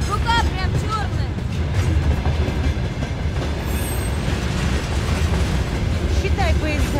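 A train rolling past close by, loud continuous rumble with clattering wheels and occasional metallic squeals, steady throughout with faint voices in the background.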